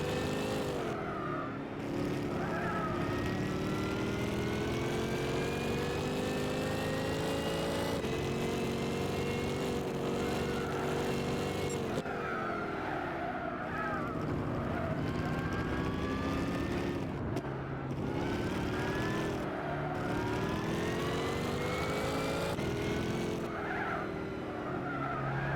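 Race car engine in Gran Turismo 6, a steady loud drone with rising and falling pitch as gears shift, plus tire squeal, running continuously near and clear throughout with no talk.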